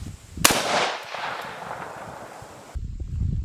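A single loud, sharp crack from a Colt .223 rifle fired into hickory wood, followed by a decaying outdoor echo that fades over a couple of seconds.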